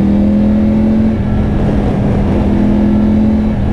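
A Triumph Tiger 900 motorcycle fitted with a Scorpion exhaust with the baffle removed idles and revs close by, a loud, steady, deep engine rumble with a sustained low tone.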